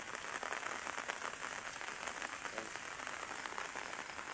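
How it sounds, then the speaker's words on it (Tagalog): Steady heavy rain pours down near a hanging bridge during typhoon flooding, a dense, continuous hiss of drops with no voices, loud and unbroken throughout. "Ayun ang ulan, ang baha."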